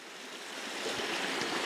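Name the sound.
small brook flowing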